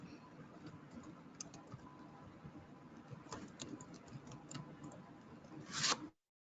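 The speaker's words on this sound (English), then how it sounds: "But I'm going to go ahead and type in here." Light clicks of typing on a computer keyboard while entering text into a graphic design program, a soft, steady patter of keystrokes at a low level, with a brief louder rustle near the end.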